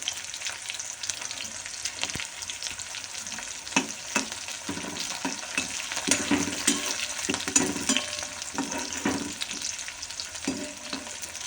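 Onion, chili and mustard seeds sizzle steadily in hot oil, a continuous crackling fry with occasional stirring scrapes, moderately loud and without talk.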